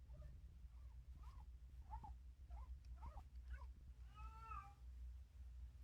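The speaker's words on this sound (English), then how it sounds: "Yeah, that's my cat." A pet cat meows repeatedly for attention, a string of short rising calls at a steady rhythm followed by a longer, drawn-out wail, fairly close and heard over a low, constant room hum.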